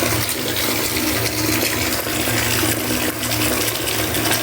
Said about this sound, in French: On va mettre un petit peu plus d'eau.